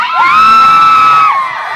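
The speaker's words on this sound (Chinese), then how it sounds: "都是我们的这个一楼的朋友在尖叫" A crowd of fans screams and cheers at a celebrity appearance inside a multi-level shopping mall, a loud sustained shriek lasting over a second before easing off.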